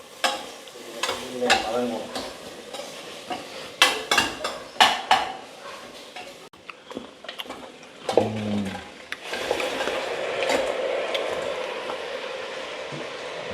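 Crab stirred and sautéed in a pan, with a spoon clattering against the metal in sharp scrapes and knocks, then a steady sizzle as the pieces fry, close up and without talk.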